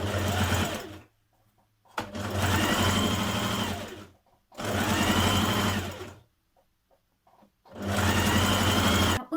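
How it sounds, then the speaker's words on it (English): A sewing machine stitches the curved neckband seam of an occasion-wear dress, running in four steady whirring bursts of about two seconds each with short silent pauses between them, close and fairly loud. "We're going to stitch up here along the curve and down this side where our loops are."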